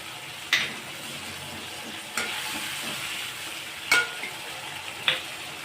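A pot of Nellore-style tamarind broth for vada curry simmers on the stove with a soft, steady bubbling hiss. A few sharp clinks from a utensil against the pot rise above it.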